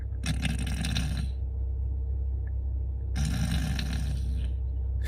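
A man imitates a woman snoring with two drawn-out, raspy breaths about two seconds apart, close and loud, over a low steady hum.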